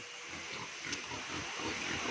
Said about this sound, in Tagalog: Magpapakain muna tayo ng mga baboy.